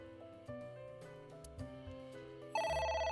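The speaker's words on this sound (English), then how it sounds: "A phone. Should I pick it up?" A phone rings in the video game AI: The Somnium Files, a melodic electronic ringtone playing as stepped tonal notes. Partway through, it jumps to a louder, brighter repeating chime, with no voices over it.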